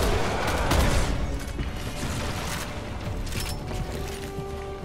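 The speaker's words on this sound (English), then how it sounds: "Just keep shooting that fucker." Gunfire in Resident Evil 6 as players keep shooting at an enemy, a dense burst of loud, overlapping shots and booms in a fast volley that continues behind a game soundscape.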